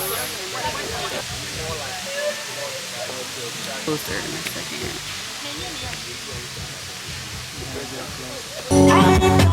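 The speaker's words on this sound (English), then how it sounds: "Y'all, we are here. I'm at the Waterfalls." Rushing water at Asenema Waterfalls in Ghana forms a constant broadband roar close by, with someone talking over it throughout.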